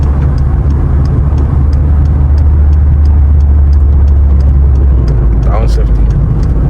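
A light VW Citi Golf hatchback with an 8-valve motor drives along, its engine droning low and steady inside the cabin, while a voice speaks over it and a brief rising squeal appears near the end.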